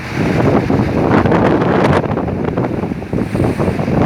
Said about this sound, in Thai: ลมกล้าแรงครับตอนนี้